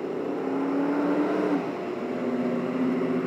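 A car driving past at a Sunday cruise night in Winnipeg, a steady engine drone with a rising whine that swells and fades, mid-distance and moderately loud.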